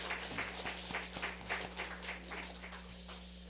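A church congregation claps for the choir after a Sunday service song, a short run of faint, evenly spaced claps over a low electrical hum.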